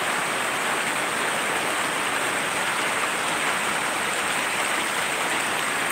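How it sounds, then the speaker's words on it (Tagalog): Dense, steady rain pours down continuously, a loud broadband hiss with no pauses or voices. "Dito maulan pa rin"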